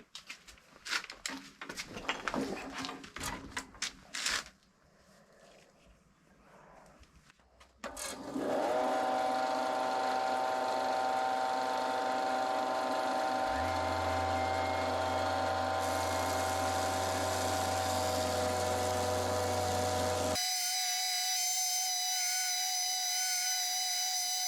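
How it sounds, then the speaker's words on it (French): A power sander works on a wooden rugby ball, starting with scattered knocks and clatter, then settling into a loud, steady whirring grind with a rising hum that cuts off abruptly near the end. "je vais essayer de rattraper pas mal avec la ponceuse"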